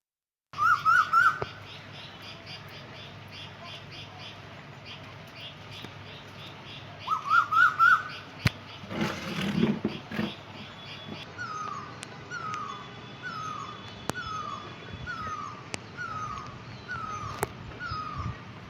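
Birds call after rain in a forest area hit by wildfire and summer heat, with short chirping bursts repeating early and a steady series of descending whistled notes later, over a soft background hush.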